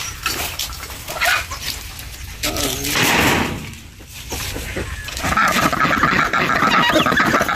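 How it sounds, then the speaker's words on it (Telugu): Farm ducks give loud, raspy honking quacks that swell and fade across several bursts, close by, with some voices mixed in among the calls. "ఇవి మా ఫామ్లో ఉన్న బాతులు."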